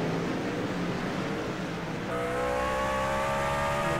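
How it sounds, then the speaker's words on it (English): A V8 race truck engine roars nearby at Sonoma, its pitch dipping as the throttle eases off for turns, then steady high-pitched whine returns; no talk. "You can hear how much he's having to get off the throttle for turns number 1 and 2."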